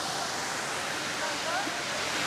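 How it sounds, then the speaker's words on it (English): A loud park water fountain on a warm summer day, its steady, dense rushing spray filling the whole clip with constant noise and a faint voice or two buried underneath. "the water fountain is incredibly loud"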